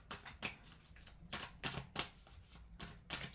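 Tarot cards being laid down and slid over one another, producing a series of soft, brisk papery swishes and taps in irregular succession, close and quiet with no talking.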